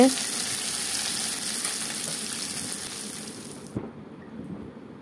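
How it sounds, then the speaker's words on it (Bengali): Onions fry in hot oil for a Bengali egg curry, producing a continuous close sizzle that cuts off abruptly near the end, leaving faint room noise. "তেলটা গরম হয়ে যাওয়ার পর পেঁয়াজগুলো তেলে দেওয়া হয়েছে"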